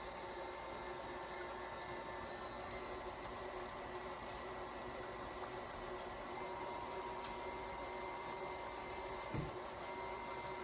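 Electric stand mixer fitted with a dough hook working cinnamon roll sweet dough with yeast and egg, a steady close motor drone with whine and a faint rhythmic churn that runs unbroken throughout.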